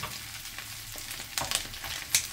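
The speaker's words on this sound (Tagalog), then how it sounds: "Pero igigisa ko muna, mamantika at saka nilagyan ko ng virgin oil" Onion, garlic and pepper sizzle and fry in hot virgin olive oil, a steady crackling hiss with a few sharper pops as the pan is stirred, close and alone.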